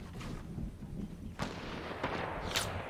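Gunfire in the Fortnite video game, several separate sharp shots cracking at irregular intervals over a low rumbling game background, moderately loud with no talk.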